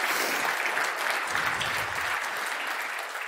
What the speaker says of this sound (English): please give a huge shout out and applause for BSidesMunich today